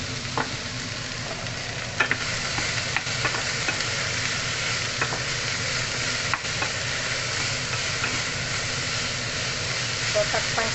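Beef cubes frying in a pan with green beans for Lebanese loubieh, a continuous dense sizzle and hiss with occasional stirring clicks, close and steady, no talking.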